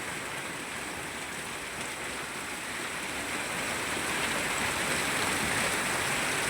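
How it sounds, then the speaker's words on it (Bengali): Heavy rain pours down in a village, a dense continuous wash of falling water that grows slightly louder and fuller toward the end. "কত ফোর্সে যে বৃষ্টি নামতাছে সেটা বলে বোঝানো যাবে না"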